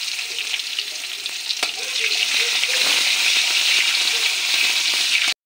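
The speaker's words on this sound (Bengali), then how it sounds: "পেঁয়াজটা ভাজা করে নিই।" Chopped onions sizzle in hot oil with cumin, dried chilli and bay leaf already fried, a steady loud crackling hiss with a faint stirring knock, no voices.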